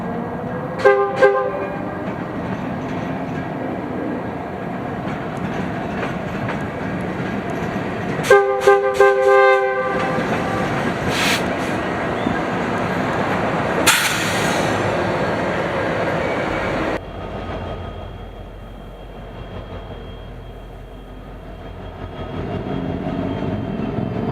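A freight train led by a Union Pacific SD70M locomotive rumbles past with two loud blasts of its horn, then the heavy clatter of rail cars rolling by fades into a quieter drone.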